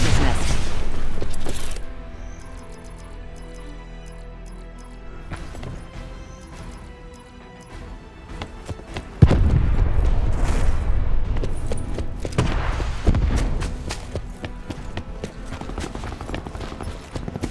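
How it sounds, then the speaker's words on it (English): In a Black Ops 4 team deathmatch on the Masquerade map, a thrown cluster grenade goes off in a burst of heavy booms, followed by scattered gunfire and explosions of varying loudness. "Throwing cluster grenade."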